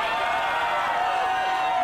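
A crowd at an arm wrestling match cheers and roars in a continuous loud wash of voices, close and sustained for a brief moment.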